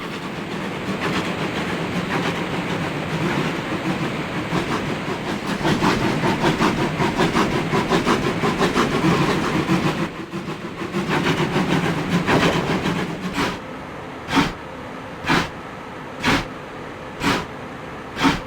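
A train in the railway simulation game Trainz 22 rolls across a bridge, with a loud, steady rumbling run and then a series of evenly spaced rail-joint clicks as the wheels pass over the track.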